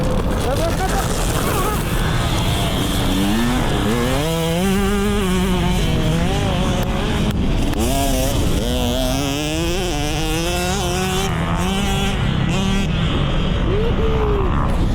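A motorcycle engine revs repeatedly on a riding track, its rising and falling pitch sweeps running close and loud under steady wind, with people talking over it.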